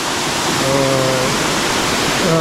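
A high waterfall near Asud village in the Konkan, its falling water making a steady, dense roar with no break, loud and close.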